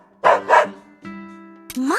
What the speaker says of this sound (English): My, what a spirited dog.